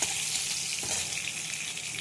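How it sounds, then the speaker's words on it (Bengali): Pointed gourd (potol) pieces fry in oil in a pan, giving a close, continuous bright sizzle with faint stirring scrapes, heard alone without talk. "পটলগুলো ভাজা হয়ে গেছে"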